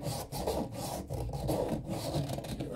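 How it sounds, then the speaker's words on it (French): Steady back-and-forth rasping as the male end of a pipe is sanded during a leak repair under tiled flooring, with close, rhythmic strokes and brief pauses between passes. "Je vais poncer la partie mâle."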